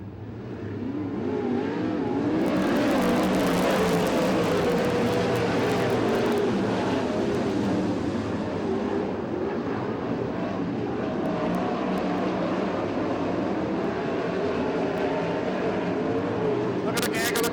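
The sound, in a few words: USAC/CRA sprint cars racing at Tulare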